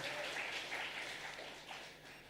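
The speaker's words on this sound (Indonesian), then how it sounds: "Yang percaya berikan tepuk tangan buat Allah kita." Church congregation at a Sunday service in Pluit Village applauding, a soft, steady wash of clapping heard from a distance, fading slightly toward the end.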